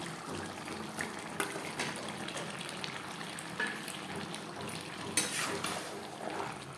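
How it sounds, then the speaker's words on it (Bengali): Chicken and fried potatoes being mixed together in a pan give a steady, close sizzling hiss with a few sharper scraping knocks scattered throughout. "চিকেনের সাথে আলু বেশ ভালো করে মিক্সড করে দেবো"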